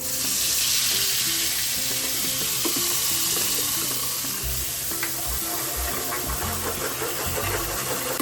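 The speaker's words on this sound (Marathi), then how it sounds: "आता तेल गरम करत ठेवला, तर ह्याच्यात मसाला टाकूया" Masala sizzling steadily in hot oil for a prawn curry, a loud continuous fry with low clattering knocks toward the end and no voices.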